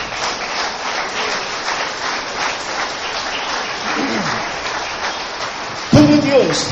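Steady crowd applause at a church service fills the space, dense and continuous like rain, with a brief voice breaking in near the end.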